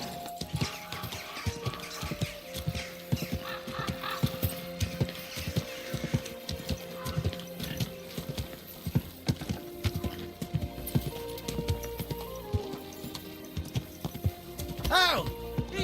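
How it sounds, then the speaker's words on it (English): Horse hooves clip-clop steadily in the video game Kingdom Come Deliverance 2, a continuous close rhythm over a busy game soundtrack with creaking tack, and a brief whinny near the end. "Easy, good horse."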